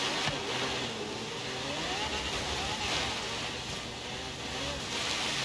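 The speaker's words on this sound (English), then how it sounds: "There's a bit of an echo going on as well with the car." A car engine drones in a Forza racing game, a steady mid-pitched hum with rising and falling revs and a slight echoey quality, continuous throughout.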